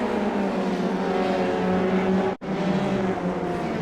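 Race cars circle Lime Rock in a sim racing game, a continuous buzzing engine drone with a brief sharp dropout partway through, then the engine whine resumes, loud and steady with no voices.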